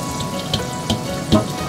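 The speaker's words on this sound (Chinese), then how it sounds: "虾米跳进猪油中油炸，冒泡后加入米酒去腥味" Dried shrimp crackle and pop in hot lard at a street stall making rice-dumpling filling, a busy bubbling sizzle with a few sharper spits standing out over the steady frying.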